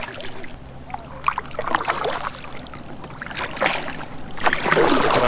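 Kayak paddle strokes splash and drip through the water in an uneven rhythm while the craft is trolled for fishing, close by and moderately loud, the splashes growing heavier toward the end.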